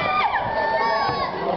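Crowd at an amateur intergroup basketball game in Sta. Clara shouting and cheering in a steady roar, with high whoops and children's voices rising above the din throughout.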